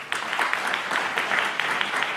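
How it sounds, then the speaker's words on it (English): Conference audience at a digital health forum applauds the speakers, a bright, even patter of many hands at moderate distance, steady for the whole stretch with no voices on top. "another round of applause to the speakers"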